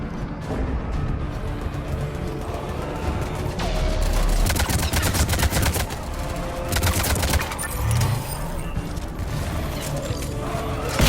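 Sustained gunfire in Mass Effect 3, loud overlapping automatic bursts and crashes of a firefight with steady background battle noise, no voices.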